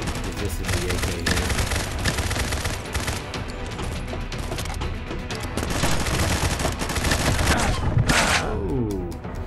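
AK rifle fire in the Combat Masters video game: dense, loud bursts of rapid shots fill the whole stretch, with gunfire from other weapons mixed in and scarcely a pause.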